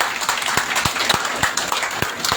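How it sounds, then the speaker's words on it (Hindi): Clapping from an audience at a village political gathering, greeting Communist party leaders; a dozen or so sharp, scattered claps over a steady murmur of crowd noise, moderately loud and fairly close. "एक बार जोरदार तालियां बजा करके उनका अभिवादन करें।"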